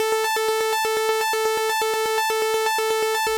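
Trilling MIDI pattern on a Vital synth, stepping three notes down and one up: bright, buzzy synth notes pulse in a fast, even rhythmic groove, played alone and clean with no other sounds.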